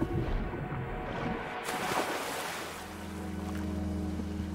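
Sea water and waves in the Wuthering Waves video game surge and wash around after a fall into the ocean, a steady rushing swell with a low droning hum underneath and no talking.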